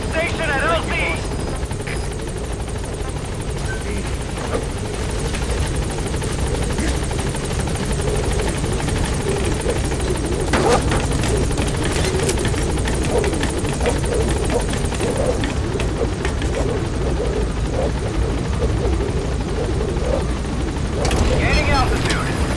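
A helicopter in the video game Metal Gear Solid V hovering at a landing zone, its loud, steady rotor throb filling the scene with occasional thumps over it, while radio voices talk throughout.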